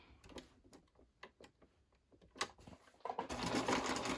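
A sewing machine runs a triple stitch on a tote bag in short, uneven bursts of ticking needle strokes, then settles into a steadier, louder whirring run near the end.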